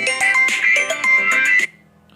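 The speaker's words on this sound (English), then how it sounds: "I'm getting a WhatsApp call which is very irritating" A WhatsApp call ringtone plays on a mobile phone, a loud, close melodic electronic tune of quick repeated notes that cuts off abruptly after about a second and a half.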